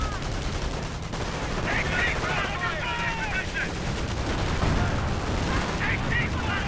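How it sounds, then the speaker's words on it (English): Light machine gun fire crackles in a World War II strategy game battle, with continuous bursts of gunfire and distant explosions under a busy mix of combat noise. "Grenadiers perhaps also flanking with LMG fire."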